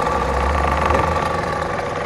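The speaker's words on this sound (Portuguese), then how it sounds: "O motor aqui é um motor de 3CV" A 3 hp, 220 V electric motor drives a homemade three-piston pressure washer. It runs with a steady, close, loud droning hum and buzz throughout.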